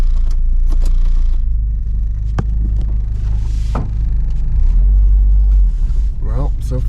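A Saturn car moving under its own power on a rough test drive, with a steady low engine rumble and drone, occasional clicks and knocks, loud and close throughout.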